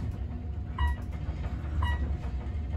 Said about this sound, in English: These do make shaft noises, though.